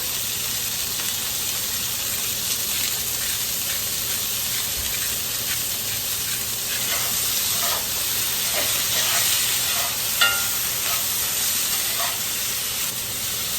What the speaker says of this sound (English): we're just looking for a quick sear